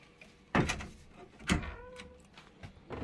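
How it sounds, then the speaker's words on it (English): A hotel room door in Kotor, Montenegro, shuts with a couple of firm, close thuds and a rattling latch, followed by quieter handling knocks. "Let's close the door."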